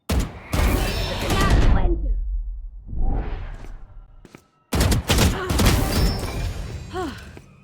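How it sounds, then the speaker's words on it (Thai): Rapid gunfire bursts from the tactical shooter Valorant, loud and dense with weapon shots and whooshes, broken by a short silent gap, while players talk excitedly over the action. "ยิงไซเฟอร์ไม่เคยตายเลย"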